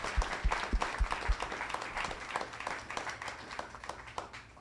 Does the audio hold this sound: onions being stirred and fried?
no